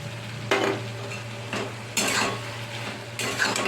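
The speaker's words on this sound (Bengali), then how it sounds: "দিয়ে ভালো করে নেড়ে চেড়ে নিই" Fried prawns being stirred into a pumpkin curry in a pan: a few separate scraping, rustling stirs rise over a steady low hum and soft simmer, each burst lasting about half a second.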